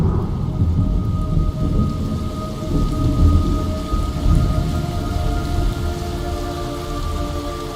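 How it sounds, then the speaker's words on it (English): Rain and thunder in the video game Metal Gear Solid Delta: Snake Eater: a dense, continuous downpour with deep rolling thunder rumbling throughout, loud and enveloping, with no talking. "It's raining blood."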